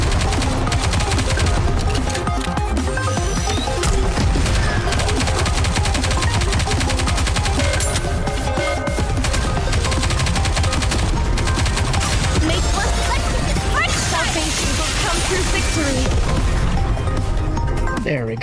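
Sustained automatic gunfire and bursts in the mobile shooter Goddess of Victory: Nikke, a dense, loud, continuous barrage with booms throughout, with character voices talking over the shooting.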